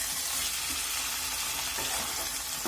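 Boiled chana dal is stir-fried with soybean and spices in a pan, a loud, constant close sizzle with occasional scraping stirs of the spatula.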